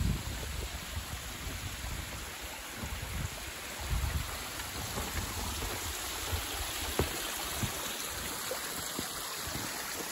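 Mountain headwater stream of the Arabuki river in a late-autumn valley, a steady broad rushing of water flowing continuously and fairly close, with no talk over it.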